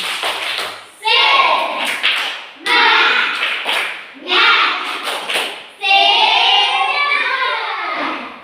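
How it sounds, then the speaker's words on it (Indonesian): A group of children in a classroom performs a rhythmic spirit clap for group 4, chanting together in four loud bursts with clapping and tapping between short pauses. "Oke, kita tepuk semangat kepada kelompok 4"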